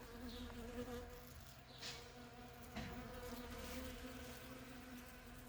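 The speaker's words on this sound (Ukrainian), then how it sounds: "Ось так працюють сусідські бджоли." Honey bees buzz softly and continuously nearby, their hum rising and falling as individual bees pass close.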